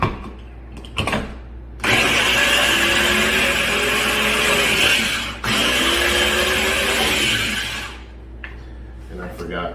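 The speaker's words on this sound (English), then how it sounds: "I about wore my Ninja out, so it may sound a little raggedy" A well-worn Ninja blender runs loud and steady for about six seconds, briefly cutting out midway, with a raggedy motor whine, then stops; quieter kitchen handling noise surrounds it.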